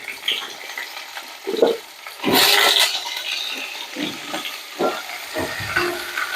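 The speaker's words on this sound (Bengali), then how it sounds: "দিয়ে ফোড়নের সাথে একসাথে কুমড়োটাকে ভেজে নিচ্ছি" Pumpkin pieces frying in a pan with a spice tempering, a hissing sizzle that surges loudly as the pieces are stirred, with scraping utensil strokes throughout.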